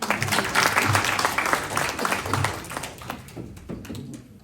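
An audience claps steadily through the whole stretch at the Kerala Samajam of Greater New York 2025 award ceremony, a dense, fairly loud wash of hands with a faint voice underneath.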